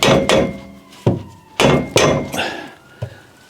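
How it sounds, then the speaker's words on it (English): Several loud, sharp metallic hammer blows land at uneven intervals, knocking an exhaust box off its pipe on a Fiat 500, each ringing briefly before the next strike, close by. "So I should be able to get hammer and screwdriver"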